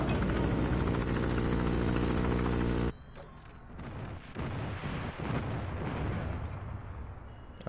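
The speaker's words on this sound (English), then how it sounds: "Friendly airstrike incoming." Airstrike explosions in Call of Duty Mobile: a loud sustained roar of blasts cuts off abruptly, followed by scattered thuds and crackling impacts at a lower level.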